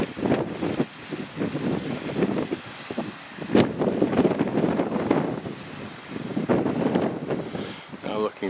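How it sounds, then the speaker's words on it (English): Wind buffets the microphone on coastal cliffs along a Wales coast hike near St. David's, a steady, loud rushing roar with gusty swells and faint surf underneath, and no talking. "It's still wind blowing now."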